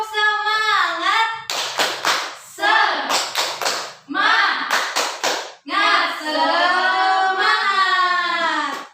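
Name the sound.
class doing a rhythmic spirit clap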